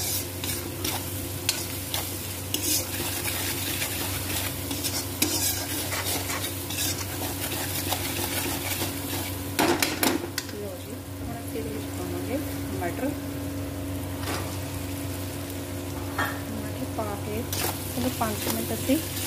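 Cabbage and peas frying in a pan are stirred continuously with a utensil, a steady close sizzle under scraping and clinks of metal, while a person talks intermittently over the cooking.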